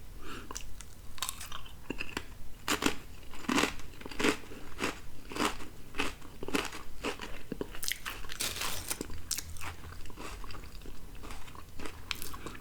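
UTZ Honey Barbeque potato chips being chewed close up, a rapid, continuous run of loud crisp crunches and crackles with no talking.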